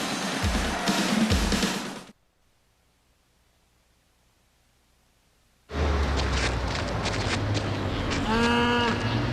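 Cows moo in a Chick-fil-A television commercial, loud bovine lowing over a hissy broadcast bed, cut by two seconds of near-silence before the noisy moos and calls return.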